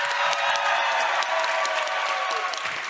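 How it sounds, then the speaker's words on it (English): An audience at a Minecraft speedrun world championship event bursts into sustained applause and cheering for a presenter, a dense steady roar of clapping with scattered voices throughout. "Can we get another cheer for Poundy"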